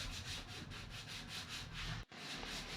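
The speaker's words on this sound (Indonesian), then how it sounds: "setelah dipotong kita haluskan dengan menggunakan amplas" Sandpaper is rubbed by hand across the cut edge of a plywood board, making rhythmic back-and-forth scratchy strokes, close and fairly quiet, with a brief pause near the end.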